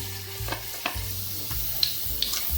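Mustard seeds and chana dal sizzle in hot oil for biryani-style paruppu sadam, a continuous loud frying hiss broken by several scraping stirs of the spoon in the pan.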